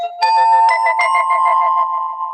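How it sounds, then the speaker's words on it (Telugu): A mobile phone ringtone or notification sound plays alone: a clear, close electronic melody of a few bright chiming notes over a sustained tone, lasting about two seconds. "ఇది ఇంకో ring tone friends, notification sounds."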